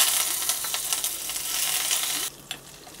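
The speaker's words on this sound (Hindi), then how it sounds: "राई को थोड़ा सा तड़क जाने देंगे, इसे इसमें हरी मिर्चें, हमने 5 हरी मिर्चें और करी पत्ता लिया हुआ है।" Mustard seeds, five green chilies and curry leaves crackle and hiss in hot oil as a tempering for khaman dhokla, a loud, steady close-up sizzle that drops sharply near the end, followed by a single light clink, with no talking.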